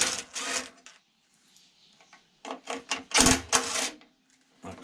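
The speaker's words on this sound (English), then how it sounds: "So 7/16 we'll remove the 3 bolts required to take the pull cord assembly off." A 7/16 in. wrench working bolts loose from the pull cord assembly of a vintage Ransomes Marquis lawnmower, with quick ratcheting clicks and metallic taps in short bursts separated by near silence.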